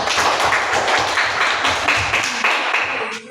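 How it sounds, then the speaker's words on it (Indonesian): A classroom audience claps for a presenting group, a dense, loud burst of many hands applauding steadily for a few seconds before tapering off. "Oke, tepuk tangan buat kelompok 1."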